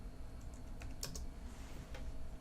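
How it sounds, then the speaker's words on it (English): A computer keyboard clatters in soft, quick bursts of clicks, some keys struck harder, recorded close up and quiet, with no one talking. "I am terrible at typing"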